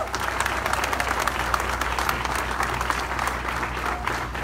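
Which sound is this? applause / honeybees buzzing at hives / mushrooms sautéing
applause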